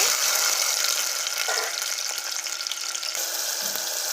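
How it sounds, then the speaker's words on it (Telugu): Two thinly sliced tomatoes frying in oil for a pepper rasam, giving a steady, close, dense sizzle that runs unbroken from start to finish, with no voices. "టమోటాలు సన్నగా కట్ చేసుకున్నవి రెండు టమోటాలు అనమాట ఈ చక్కగా గుజ్జులాగా ఫ్రై చేసుకోవాలి"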